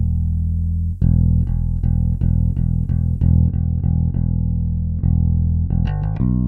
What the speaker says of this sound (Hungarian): Bemutatom nektek, hogy milyen hangja van a basszusgitárnak